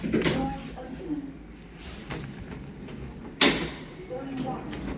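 Lift doors at Tate Modern in Central London slide open with soft rumbling and a thud against steady lift-car hum, while a person talks over it and a clear knock sounds partway through.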